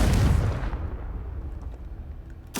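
Confringo fire spell blast in the Hogwarts Legacy video game, a heavy booming explosion that hits loud at once and then rumbles and fades over a couple of seconds.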